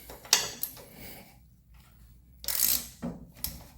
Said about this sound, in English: let's take these bolts off and see what happens